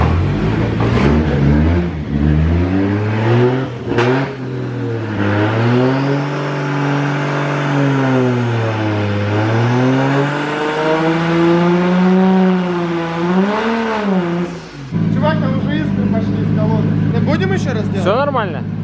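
Tuned Lada car engine with anti-lag on a dyno stand, revving loud and close for a long sustained stretch with rising and falling pitch, then breaking into rough popping near the end; people talk over it.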